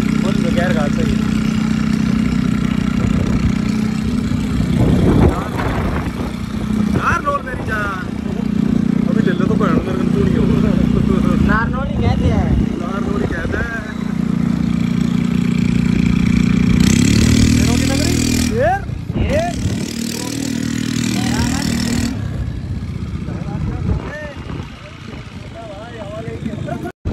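Small motor scooter and tempo engines running while riding along, a steady mid-pitched drone that continues through most of the ride with bursts of brighter noise partway through and talk over it.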